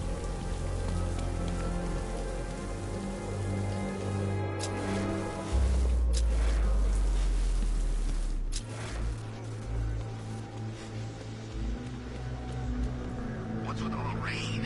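Steady heavy rain in the video game Batman: Arkham Knight pours down with a continuous hiss, low rumbles rising and falling underneath, with no voices heard.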